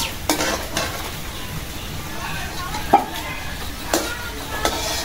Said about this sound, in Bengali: আলুগুলি একদম ভালো করে ভাজবো